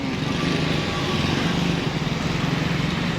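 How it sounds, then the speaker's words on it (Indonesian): A 26 PK dompeng diesel engine drives a construction concrete lift used to pour a fourth-floor slab. It runs with a steady, close, rapid chugging throb, loud and unbroken throughout. "Ini namanya mesin untuk menggunakan alat bantu lift cor bangunan ya"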